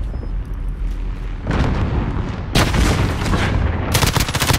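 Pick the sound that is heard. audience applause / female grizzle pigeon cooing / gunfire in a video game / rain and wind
gunfire in a video game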